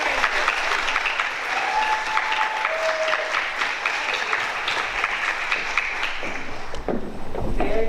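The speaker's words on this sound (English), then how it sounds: "And a big round of applause for our third" Steady applause for third graders at a school board meeting, sustained clapping from a room of people at moderate distance, with a couple of faint tonal squeaks and a slight lift near the end.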